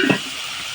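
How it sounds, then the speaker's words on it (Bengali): Lote fish dropped onto tomato and onion frying in a pan, giving a brief close burst of stirring followed by a steady bright sizzle that carries on alone. "টমেটো পেঁয়াজ একটু কষা কষা হয়ে গেছে, এর উপর দিয়ে দেবো লোটে মাছ।"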